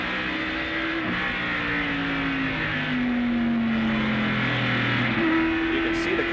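NASCAR stock cars racing at North Wilkesboro Speedway in 1987, heard from an in-car camera as a steady loud engine drone with pitch sliding down and rising again through gear changes, cars running side by side nearby.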